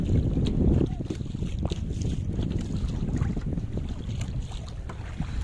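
Kayak out on choppy water off Dubai, with steady wind rush on the microphone and broadband wash of waves slapping the hull, loud and continuous throughout.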